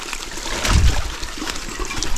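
A stream flowing along a mountain bike trail, steady rushing water with a brief louder gush near the middle, close and continuous.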